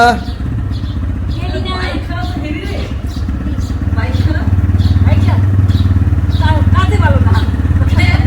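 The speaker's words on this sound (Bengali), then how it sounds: "এটা হলো ভাইয়ের বাইক ওইটা হলো ভাইয়ের বাবার বাইক" A motorcycle engine idles and then revs steadily louder, with people talking over it nearby.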